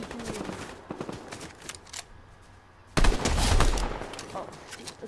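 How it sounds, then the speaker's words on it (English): Rapid automatic gunfire in a multiplayer shooter video game, with sparse bursts early on, then a loud, dense volley with heavy low-end blasts from about three seconds onward, fairly close and continuous. "Let's attack them. Shooting right here. Keep shooting, keep shooting."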